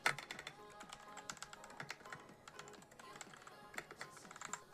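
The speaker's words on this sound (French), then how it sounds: "Clavier qui fait un bruit mémorable." A white mechanical keyboard with red switches is typed on at a steady pace, a close run of crisp, clacky keystrokes with a few louder taps, heard alone.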